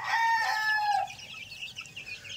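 Young chicks and chickens in a crowded brooder, just set down on the ground for the first time, make close, high chirps and clucks. A longer call opens the sequence, followed by scattered softer peeps.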